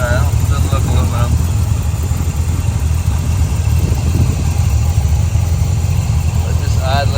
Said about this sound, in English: just idling there real nice, like it should